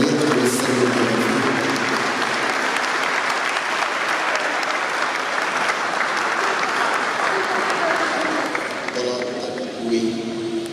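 A congregation applauds loudly and steadily in acclamation of Jesus, the dense clapping of a large crowd continuing for about nine seconds before thinning out, with a voice emerging near the end.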